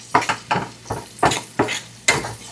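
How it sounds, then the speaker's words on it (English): A spoon or spatula scraping the bottom of a pan of sizzling sauce in rhythmic strokes, about six distinct scrapes over a low frying hiss. "We're gonna scrape every piece at the bottom of the pan"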